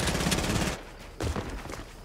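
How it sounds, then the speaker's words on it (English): Rapid automatic gunfire in a video game firefight, a fast burst of shots, a short pause, then another volley, close and loud with no talk over it. "Trying to shoot him down."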